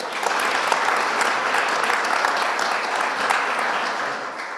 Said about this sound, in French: Je vous demande d'applaudir la vice-présidente de la Société d'encouragement pour l'industrie nationale, Madame Sylviane Villaudière.